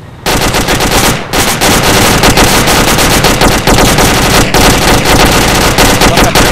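Sustained, loud machine gun fire in rapid continuous bursts, close up, with a brief gap near the start before the shooting resumes.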